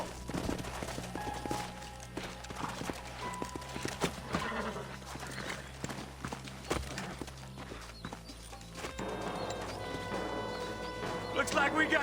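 Horse hooves clip-clop in the Red Dead Redemption game on PS4, a loose rhythmic patter under a bed of game sounds, with a horse whinny and a brief burst of gunfire amid it.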